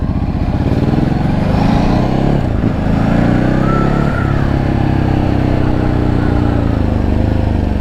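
A Ducati Hypermotard 950 motorcycle rolling downhill in Thailand, its engine droning loud and steady close by, with the pitch dipping and shifting as the throttle changes, no talk over it.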